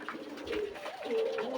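A couple of short, throaty coos from pigeons roaming freely, heard close and clear against a quiet background.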